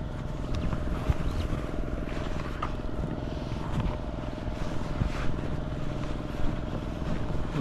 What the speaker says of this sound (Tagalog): bali yung isang makina pinandar na rin ni paring Carlo.